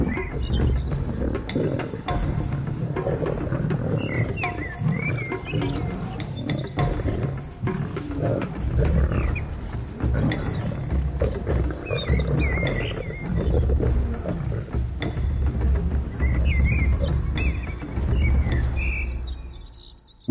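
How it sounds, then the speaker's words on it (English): Big cats roar triumphantly on the African savannah, deep rumbling roars rolling continuously for about twenty seconds, loud and close, with bird chirps and calls scattered faintly in the background. "Reclaiming their prize with a triumphant roar."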